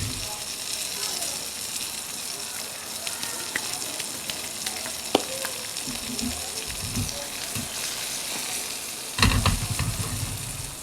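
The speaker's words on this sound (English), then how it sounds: "Get that frying along with the garlic and the salmon." Salmon fillet with garlic and Cajun seasoning frying in a pan gives a loud, steady sizzle with scattered crackles and spatula scrapes, close, growing briefly louder near the end, with no talking.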